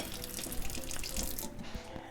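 A quarter cup of cool water poured while making raw-milk pepper jack cheese, a close, steady splashing stream running for about a second and a half before fading out.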